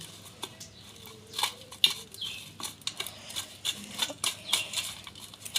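Chicken pieces already dipped in egg are tossed and mixed through crushed potato chips for fried chicken, giving soft crinkly rustles and scattered crunchy rattles in a steady, close, fairly quiet rhythm.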